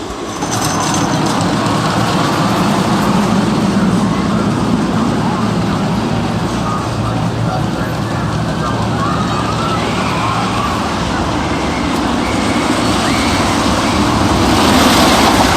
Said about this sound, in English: the camera picked up the train going in here and all the screams